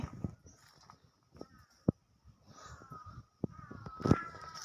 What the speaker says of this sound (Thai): เสียงกามาจะมาดอดเอาลูกไก่นี่ละ